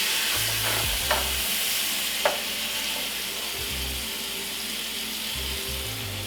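Pork pieces sizzle steadily in a hot, lightly smoking pan, a continuous close frying hiss with a couple of brief clinks and low thumps as pieces are added; no talking.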